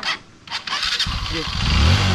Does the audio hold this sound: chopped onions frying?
no